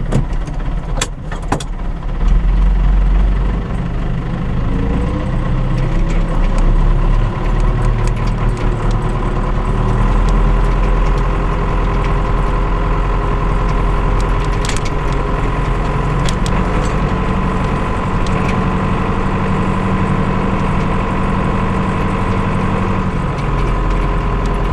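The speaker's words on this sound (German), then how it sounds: "Und schon läuft der Motor." A farm excavator's engine runs steadily at idle, a continuous low rumble that stays loud and even throughout, with a few brief knocks near the start.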